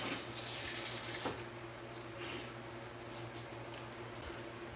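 Running tap water pouring into a sink while leaves are rinsed under it, a steady close splashing stream with shifting gurgles as the water hits the leaves and the basin, and no talking.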